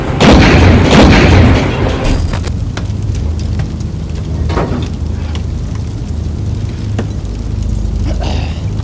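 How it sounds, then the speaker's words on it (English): A tank cannon fires a HEAT round with a loud, close blast in the opening seconds, followed by a long rumbling decay and lingering low ambience. "One heat round! Fire!"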